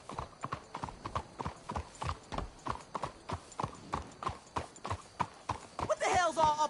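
Horses' hooves clip-clopping steadily on a trail in the video game Red Dead Redemption 2, an even rhythmic gait close by, with a voice talking near the end.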